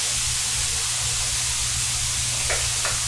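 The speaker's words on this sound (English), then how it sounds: "now I'm going to throw the onions in there as well and let those soften up for a few minutes" Onions sizzling in a hot pan alongside ground beef and cabbage, a steady close frying hiss throughout with a low hum underneath and a couple of faint scrapes near the end, no talking.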